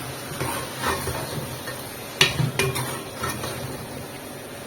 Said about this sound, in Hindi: अब इसकी अच्छी तरह से मिक्सिंग करके इसको हम भून लेंगे।